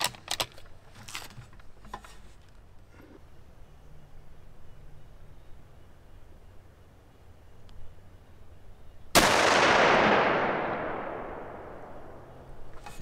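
A single rifle shot at a steel target 300 yards downrange, using a 2020 Waypoint rifle: a sudden loud blast with a long fading tail, following quiet outdoor ambience with faint scattered sounds.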